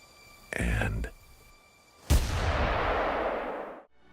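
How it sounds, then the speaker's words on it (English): .243 bolt-action rifle fired in the hunting game theHunter: Call of the Wild, a single loud, sharp crack with a long rolling echo that fades over about two seconds, preceded by a brief burst of game noise. "Did you like the gunshot sound? I think that was an old trusted friend. The 243 bolt action, wasn't it?"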